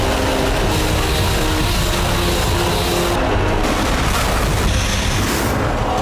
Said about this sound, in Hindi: दनादन मिसाइलें दागते लॉन्चर